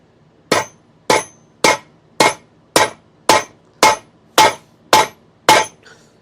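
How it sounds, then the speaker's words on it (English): Ten sharp hammer blows strike something at a steady, even rhythm of about one every half second, each a loud ringing crack that fades quickly, with no talking. "Just whopping it with a hammer"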